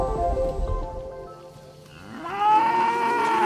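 A cow on a Brazilian ranch combining rangeland and feedlot lets out a single loud, drawn-out moo, close and rising in pitch, after a few seconds of low rumbling background.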